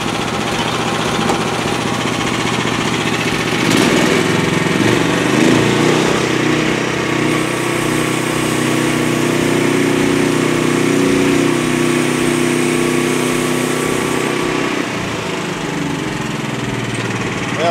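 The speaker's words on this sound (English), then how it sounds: "This is red oak, so this is going to give this engine a run for its money." A Frontier OS23 sawmill's engine runs steadily under load as a Wood-Mizer Turbo 7 blade cuts through a red oak log with a knot, a loud continuous roar with a sharp crack partway through.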